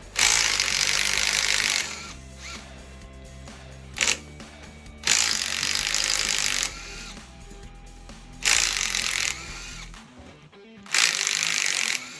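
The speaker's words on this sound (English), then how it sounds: "Then we're going to go to the ratchet, break these free." A ratchet and power tool work loose the cylinder head bolts on a 5.3 LS V8 engine during teardown, sounding in loud repeated bursts of rattling mechanical grinding, with quieter clicks and clunks between them.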